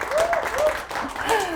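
Applause from an audience at a family-history sales consulting talk, a brief burst of clapping mixed with voices speaking over it.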